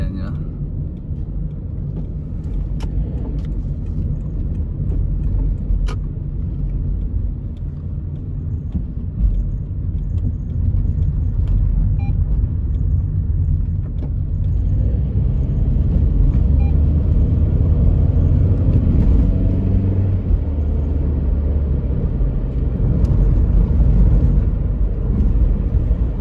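A car travels a toll expressway between Hiroshima and Osaka in Japan, giving a steady, loud low road rumble and engine drone throughout, with faint voices in the background.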